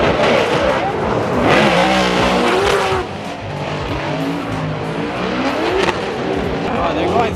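Drift cars race past at a Formula Drift event, loud engines revving and tires squealing in overlapping sweeps close by, with people talking nearby.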